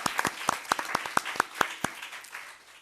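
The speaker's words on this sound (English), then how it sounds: "He deserves a round of applause." At a school district meeting a handful of people applaud briefly, with a few distinct, fairly close hand claps in a loose rhythm that fade out after about two seconds.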